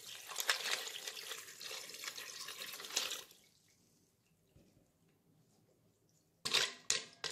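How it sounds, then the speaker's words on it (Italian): Tap water runs into pasta in the pot of an electric pressure cooker, a splashing, trickling pour that stops midway, leaving near silence before a short burst of clattering handling noise. "Alla pasta vado ad aggiungere dell'acqua fino a coprirla e superarla"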